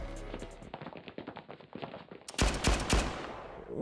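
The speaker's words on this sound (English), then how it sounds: "Was that a gunshot?" Gunfire in the video game Blue Archive: rapid bursts of shots, first lighter and quicker, then a louder, denser volley toward the end, sharp and close with no talk over it.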